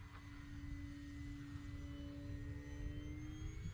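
A Durafly Tundra V2 RC plane flies overhead with a steady electric motor drone and faint propeller whine, holding even and moderately distant throughout, with no voices.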